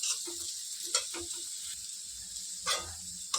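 Semolina (suji) for upma is dry-roasted and stirred in a pan, giving a steady close scraping hiss with a few sharper utensil scrapes.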